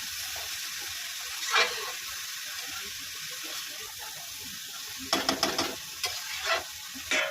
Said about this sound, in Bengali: এবার আমি পেঁপেগুলো দিয়ে দেবো। কুড়িয়ে রেখেছিলাম, পেঁপেগুলো দিয়ে কষাবো।